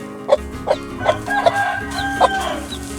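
Asil/Shamo chickens cluck in a steady series of short, regular calls close by, with a rooster kept in among a baby chick and soft background chatter from the flock.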